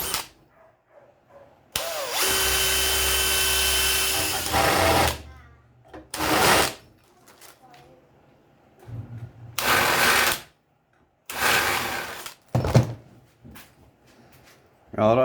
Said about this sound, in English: It's not too hard to drill a couple of holes